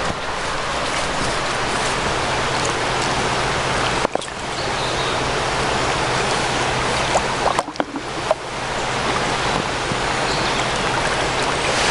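A river in a wooded valley flows past close by in a steady, broadband rush, with a few brief thumps and clicks over the continuous water noise.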